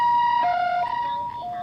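Ambulance siren wailing at a pre-dawn road crash involving a truck and cars at an intersection, alternating two-tone pitch, clear and fairly close, no talk.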